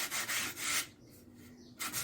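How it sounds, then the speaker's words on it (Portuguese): Hand sanding of cement mortar on a vase molded from cardboard, close rhythmic rasping strokes in bursts with a short pause between passes. "Vai lixando aqui aquela massinha que nós colocamos, bem devagarzinho, arredondando, tirando o excesso"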